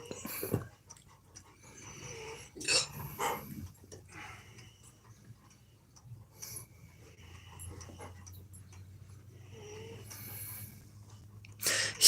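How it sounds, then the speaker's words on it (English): A sleeping pet snores softly nearby, faint repeated wheezy breaths with irregular louder snorts and sniffs against a quiet low hum. "Listen to his little snores."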